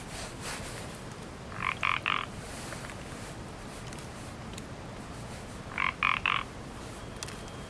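A frog croaks in two short pulsing bursts a few seconds apart, moderately close, over a steady hiss of outdoor night ambience.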